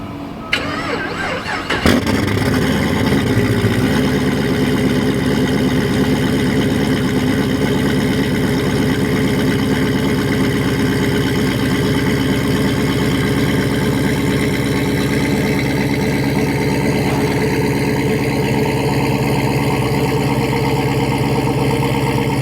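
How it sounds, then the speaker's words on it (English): A racecar engine cranks briefly and catches, then settles into a loud, steady, rumbling idle that runs on without a break after the car was driven off a trailer without ramps. "When you unloaded the car off the trailer without the ramps out."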